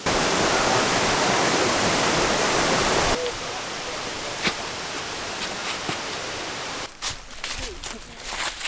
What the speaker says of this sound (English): we've come to our first stop already at a waterfall here